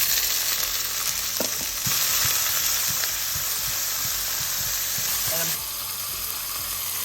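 Tomatoes and onions fry in olive oil with a loud, continuous sizzle, close up, broken by occasional clicks and scrapes of stirring.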